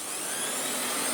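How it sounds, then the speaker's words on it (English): A restored Hoover Turbomaster Electronic Total System vacuum cleaner runs at minimum power with tool suction, giving a steady close motor roar and airy whoosh throughout, without speech. "Let's turn her on and check the tool suction."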